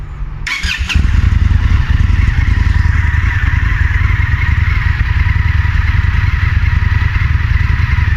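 An Indian FTR1200 RR motorcycle fitted with an Akrapovic exhaust, baffles still in, fires up with a sharp crank, then holds a loud, steady, deep idle close by.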